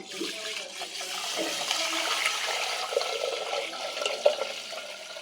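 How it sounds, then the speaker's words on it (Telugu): Water is poured into a pot of washed rice before cooking on the stove, a steady splashing, running-water sound throughout, close and moderately loud, with no talk. "దీంట్లోకి అయితే వాటర్ పోసుకుని ఇంకా ఫస్ట్ స్టవ్ మీద అయితే బియ్యం కడిగి పెట్టేస్తున్నాను"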